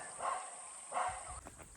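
Dog barking in a rainy forest camp, two muffled barks spaced apart and heard faintly at a distance over a steady high insect hum.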